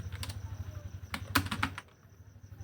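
Quick, light keystrokes clatter on a computer keyboard while text is typed into Microsoft Word, a short burst of close, faint tapping that thins out toward the end.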